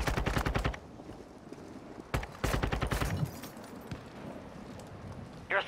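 Bursts of automatic gunfire in the Warzone video game, two loud rapid strings of shots separated by a quieter gap, with a few scattered single shots and another burst starting at the end.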